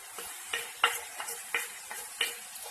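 Mutton sautés with turmeric in a pot, a low sizzle under repeated stirring. A spoon knocks and scrapes against the metal about every half second, close and fairly quiet.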